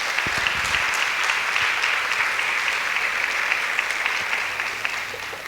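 Steady applause from a church congregation during a Spanish-language service, a dense, continuous wash of many hands clapping that holds evenly for several seconds before easing slightly at the end.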